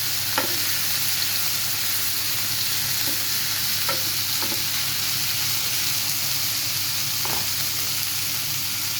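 Bitter gourd and chili sizzle steadily in a hot pan, with a few sharp scrapes and clinks of a utensil stirring them through the constant frying hiss.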